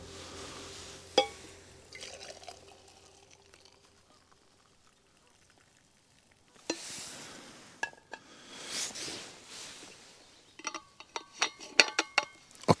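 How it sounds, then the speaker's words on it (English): Hot water is poured into a mini flask at a camp on a remote island, with a soft trickling pour in the middle, followed by metallic clinks and taps of the flask and lid near the end. "So I'm going to transfer this to this flask"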